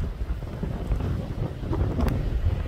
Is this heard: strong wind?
yes